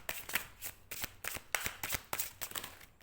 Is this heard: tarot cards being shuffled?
yes